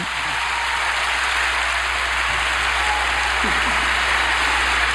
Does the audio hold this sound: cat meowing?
no